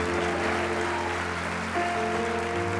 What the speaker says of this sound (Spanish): Vamos, dale ese aplauso.